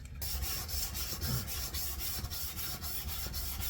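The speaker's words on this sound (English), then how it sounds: "The next finer grade of sandpaper, I'm up to 180 grade." A new violin being sanded with 180 grit sandpaper, giving a steady, close scraping rasp with rhythmic strokes and no talking.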